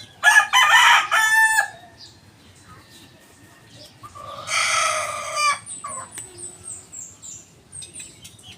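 A rooster crows loudly nearby, followed by a second crow, with faint ambient bird chirps and soft background noise.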